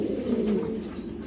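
A pair of stretcher pigeons cooing close by, a short low throaty coo over a quiet background.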